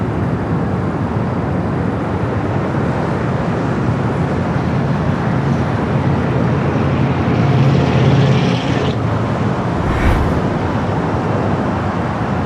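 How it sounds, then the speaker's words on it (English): A China Airlines Cargo Boeing 777 freighter arriving from Taipei at Los Angeles airport makes a loud, continuous jet engine roar that stays broad and steady throughout, with no voices. "All right, Alpha 8, turn off for this 777 freighter coming up from Taipei."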